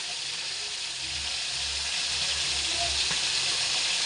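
Food fries steadily in a pan of oil, a continuous broad hiss of sizzling that holds fairly loud for several seconds with no voices over it.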